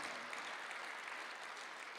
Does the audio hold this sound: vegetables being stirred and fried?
no